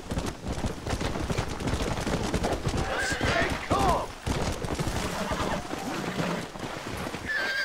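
A horse neighs and whinnies while being broken in on a ranch in Red Dead Redemption, with hooves clip-clopping and scuffling throughout as a voice urges it to calm down.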